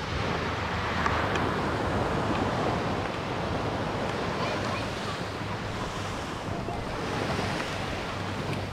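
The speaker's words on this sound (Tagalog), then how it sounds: "Tignan natin yung dagat." Calm sea waves at a Zambales beach wash in steadily and continuously, a soft even surf roar close by with light wind buffeting the microphone and no talking.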